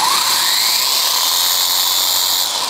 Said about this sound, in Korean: 또 3mm 편심을 끼니까 좀 갈리는 소리가 납니다